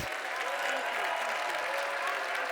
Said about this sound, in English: Please make a beautiful round of applause.